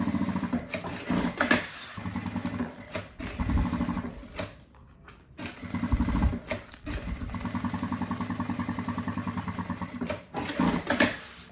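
A sewing machine runs stitches along the lining of a zippered pouch in close, loud bursts of motor hum and needle chatter, with a short pause partway through.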